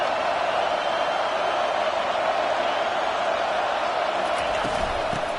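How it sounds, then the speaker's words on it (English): Steady stadium crowd roar from a College Football 25 game, a continuous broadband wash of cheering that holds at an even level throughout, with no distinct voices standing out. "the crowd's giving them some juice"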